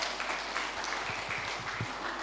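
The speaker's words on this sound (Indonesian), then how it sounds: "Tepuk tangan bagi Tuhan Yesus." A church congregation claps for Jesus during a sermon, a soft, fairly even patter of applause from the room without speech.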